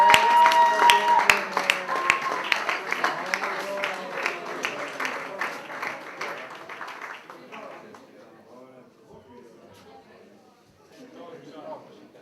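Applause fills an awards ceremony hall as the best coach of 2013, a shooting club trainer, is honoured, with dense clapping from a crowd that gradually thins and fades over several seconds.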